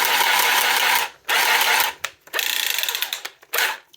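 A Milwaukee M12 cordless pipe cutter whirs in loud mechanical bursts, stopping and restarting several times with brief silent gaps between runs.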